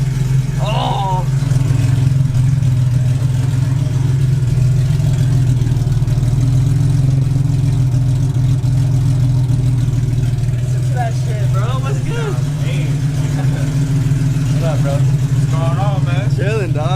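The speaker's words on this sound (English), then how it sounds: "Listen to the idle." A rebuilt, cammed Nissan G35 engine runs loud and close, with a steady rumbling idle that is occasionally blipped. Excited voices talk over it throughout.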